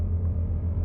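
Mercedes EQS SUV synthetic 'Roaring Pulse' drive sound, a deep steady droning rumble, low and sustained, with no talking.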